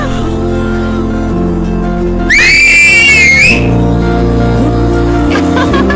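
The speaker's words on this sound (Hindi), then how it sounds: "अब बजी ना सीटी।" In a Hindi-dubbed South Indian film scene, a sharp finger whistle, blown with fingers and tongue, sounds once for just over a second with a shrill, wavering pitch, riding above loud, steady background music.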